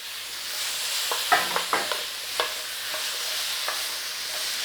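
Pineapple pieces stir-fried in a pan for sweet and sour pork, a constant close sizzle with scattered light clinks and scrapes from stirring, no speech.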